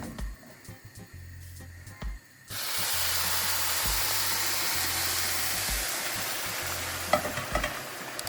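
Boiling stock poured into a pan of couscous toasting in oil sets off a sudden loud, steady sizzling hiss that holds for several seconds after a few quieter stirring scrapes at the start.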